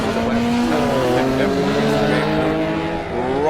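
An Alfa Romeo race car at a club motorsport round roars past loud and close, its engine note climbing and falling steadily, with an announcer's voice running over it.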